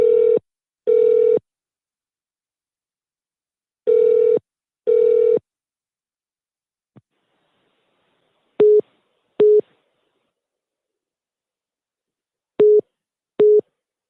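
During a phone call transfer, paired electronic ring tones repeat in bursts with silent gaps between them. Later pairs turn shorter and clipped, then the line falls silent.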